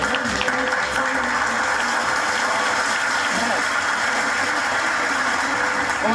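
A crowd at an Independence Day celebration held by a Ganga Maiya temple committee gives loud applause for a prize-winning family, a steady dense wash of clapping over a constant background hum, heard throughout without pause.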